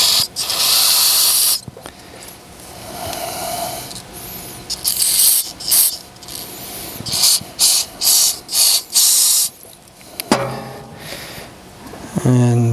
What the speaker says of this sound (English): I can actually shoot fluid through it.